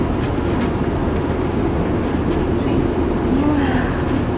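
Steady low rumble of a train riding along the rails in Scotland, continuous and fairly loud, with faint voices murmuring underneath.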